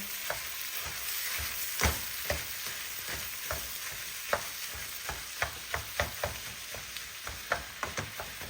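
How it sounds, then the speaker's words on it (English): Chopped sausage browning in a pan for a sausage pepperoni pizza loaf, with a steady sizzle and a run of sharp scraping, stirring taps from a utensil spaced irregularly throughout, no talk. "So you want to get this sausage chopped up because you want it to be brown."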